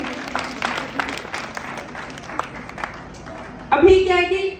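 An audience breaks into clapping at a speech event, a burst of applause that rises loudly near the end after scattered claps beneath a man's speech.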